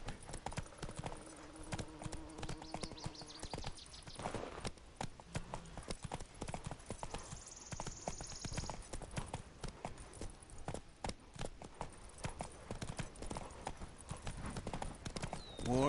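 Roach, the horse in The Witcher 3: Wild Hunt, gallops with rapid, continuous clip-clop hoofbeats over faint game ambience, including a few brief tonal sounds.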